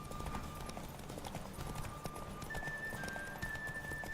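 Horse hooves clip-clop steadily in a Witcher 3 video game horse race, a continuous galloping patter at moderate level with faint tonal game sounds above.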